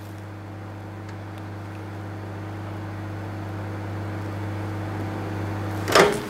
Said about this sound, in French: Je vais juste le repasser un petit peu au micro-ondes pour qu'il soit un petit peu tiède